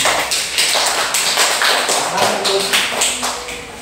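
A classroom audience claps for a student group after their presentation during a teaching practice session, a dense run of close, sharp hand claps filling the room steadily with no talk over it.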